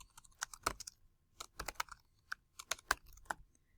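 Keys clack on a computer keyboard as a line of text is typed, close and crisp in short irregular bursts with pauses, no talk.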